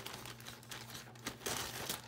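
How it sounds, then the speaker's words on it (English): Plastic packaging from an online haul crinkles and rustles continuously at close range, growing louder and busier toward the end as it is handled and opened. "I'm going to take this away and cut it open."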